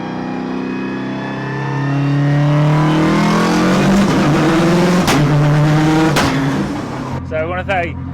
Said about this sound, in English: So Todd's now sitting in a very, very nice Lamborghini.